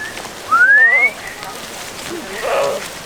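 A Himalayan shepherd whistles to call and drive goats, a sharp rising whistle followed by a shorter warbling whistle, close and loud over a faint outdoor background.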